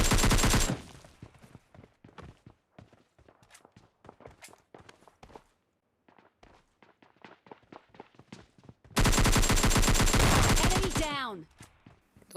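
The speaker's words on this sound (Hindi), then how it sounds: "यहाँ पे बहुत तरफ से फायरिंग आ रही थी" Automatic gunfire bursts from the mobile game PUBG Mobile Lite, two loud, dense sustained volleys at the start and end, with scattered footstep-like taps and softer shots between them.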